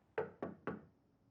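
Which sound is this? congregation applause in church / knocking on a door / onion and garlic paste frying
knocking on a door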